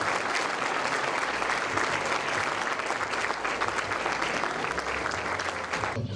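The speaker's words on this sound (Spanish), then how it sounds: "Ahí está la foto y el aplauso de todos nosotros." An audience at a university event breaks into loud, sustained applause, a dense, even roar of many hands clapping close by, with no speech over it.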